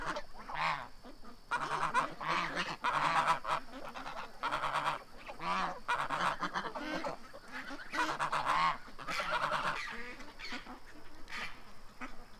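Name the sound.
geese honking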